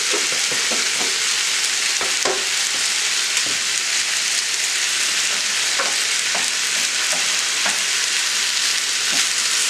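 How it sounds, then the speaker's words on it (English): Butter sizzles and fries steadily in a cast iron skillet while cooking chicken pot pie filling, a dense continuous crackle with scattered louder pops and spatters throughout. "I'm going to add about a tablespoon of butter."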